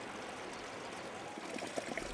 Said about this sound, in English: the water coming out of small stream appears as red as human blood.